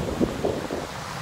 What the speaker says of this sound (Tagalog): andito na naman tayo sa dagat